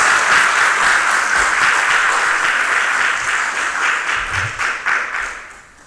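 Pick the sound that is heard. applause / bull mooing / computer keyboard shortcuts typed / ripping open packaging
applause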